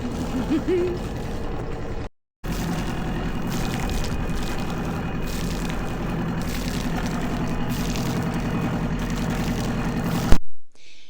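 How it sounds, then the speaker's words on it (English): A sailboat's inboard engine idles steadily out of gear on a test run, a continuous low rumble close by, briefly cut off near the start and stopping at the end. "Just giving the engine a little test. Don't worry, it's not in gear."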